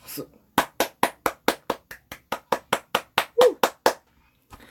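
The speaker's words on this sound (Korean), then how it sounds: "박수를 치면서" A burst of steady, fairly loud hand clapping, about fifteen sharp claps in an even rhythm, with a brief pause and one last clap at the end.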